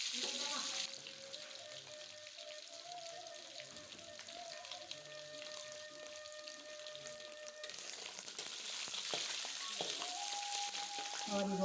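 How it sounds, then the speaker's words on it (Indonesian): Small anchovies frying in hot cooking oil for a Padang-style green chili dish, giving a steady close crackling sizzle with bursts of popping throughout. "Kalau ini mah kita mulai goreng teri, ditunggu itu minyak gorengnya panas dulu."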